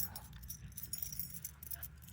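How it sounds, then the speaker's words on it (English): The original keys to a 1970 Pontiac Trans Am with a 400 Ram Air III and 4-speed jangle close by, a bright metallic clinking that comes in small repeated bursts across the moment. "You have the original keys too."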